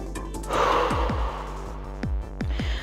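A big breath taken during a dumbbell workout: a long, airy inhale close to the microphone, followed by a few soft low thumps, with no talk.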